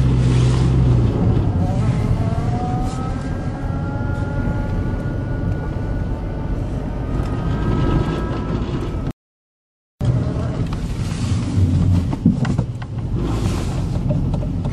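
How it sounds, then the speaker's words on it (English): A 2.0 gas Volkswagen Jetta on a test drive after a timing belt change, its engine droning steadily with rising and falling revs under road and wind noise, broken by a brief gap of silence. "Alrighty, time for a test drive."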